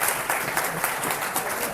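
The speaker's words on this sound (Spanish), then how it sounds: "Un aplauso para María Rosa." Brief, lively burst of audience applause in a classroom lecture on economics, dense hand clapping from a group with a few sharper claps standing out, heard alone.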